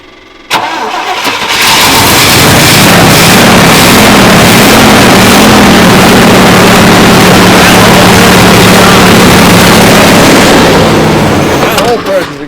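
An old Chevrolet squarebody truck engine cranks and catches, then runs loud and steady with a low rumble for about eleven seconds before cutting off near the end.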